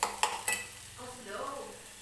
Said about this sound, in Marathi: आणि ती सुद्धा या मसाल्यासोबत व्यवस्थित परतून घेते.